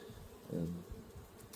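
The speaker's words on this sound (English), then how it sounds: "Very packed full of bees." Honey bees buzz in a crowded nuc hive that grew fast from a small swarm, a soft, low, steady hum that carries on throughout.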